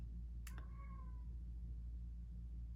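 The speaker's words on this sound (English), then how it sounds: "sorry if you can hear my cat" A pet cat gives a single short, fairly close meow indoors over a steady low household hum, followed by quiet.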